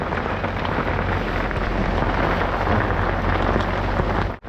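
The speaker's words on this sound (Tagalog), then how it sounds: "Ayan, umulan." Steady, heavy rain pours down continuously, a dense hiss with a low rumble underneath, cutting off abruptly at the end.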